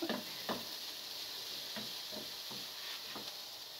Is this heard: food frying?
yes